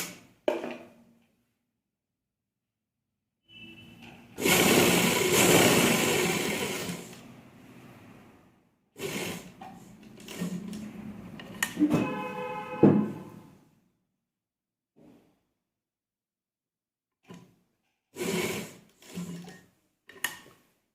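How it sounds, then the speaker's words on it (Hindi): A sewing machine runs loose tacking stitches along a collar neckline in two sustained bursts of whirring, each several seconds long, separated by silence and a few short clicks and knocks. "अब इसे हम उल्टाकर इस पर सिलाई लगाएंगे। कच्ची सिलाई लगा लेंगे इस पर।"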